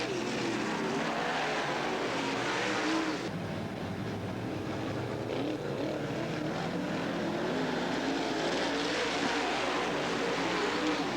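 Race cars roar around the oval at Southern Oregon Speedway during a third heat restart, a dense, continuous engine din that dips briefly then swells again as the pack passes, loud and steady throughout.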